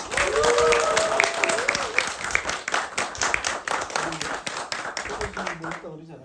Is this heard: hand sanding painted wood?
no